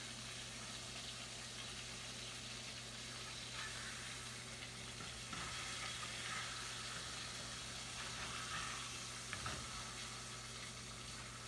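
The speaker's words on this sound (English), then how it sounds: "just about ready to flip these burger patties here" Burger patties frying in a pan, a steady faint hissing sizzle that runs throughout with a couple of brief scrapes, no talking.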